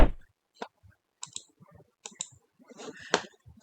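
Sharp mouse clicks while working in Allen Bradley RSLogix 500 PLC programming software, a handful of distinct, close clicks spaced irregularly with quiet gaps between them.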